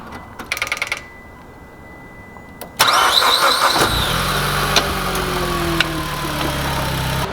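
A Mitsubishi Evo X fitted with an AEM intake cranks and fires up after a short stretch of quiet clicking, then settles into a steady, loud idle close by.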